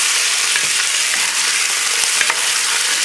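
Beef browning in a hot pan of oil for a Moroccan tajine, giving a loud, steady, close sizzle and crackle throughout with faint stirring scrapes and no speech.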